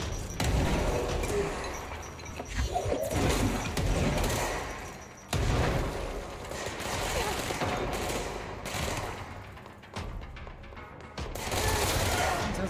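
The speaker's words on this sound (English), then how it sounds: "That's a grenade." Video game combat crackles with dense bursts of rapid gunfire and heavy blasts, including a grenade explosion, loud and continuous with brief lulls, and a voice talking over the action.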